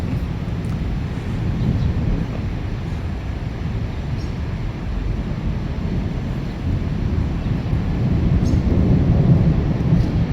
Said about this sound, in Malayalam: മിന്നലിൻ്റെ ഇടിയുടെ ശബ്ദം ഏതാ ഫ്ലൈറ്റിൻ്റെ ശബ്ദം ഏതാണെന്ന് അറിയില്ല നല്ല മിന്നലുണ്ട്